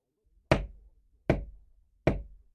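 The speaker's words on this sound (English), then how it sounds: "there was a knock at the door of my house." Three firm, evenly spaced knocks on the door of a house, sharp and close with a short boom after each, separated by near silence.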